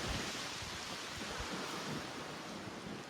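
Strong wind blowing outdoors at an Irish cottage homestead, a loud, steady roar of buffeting gusts against the microphone that fills the whole stretch and masks everything else.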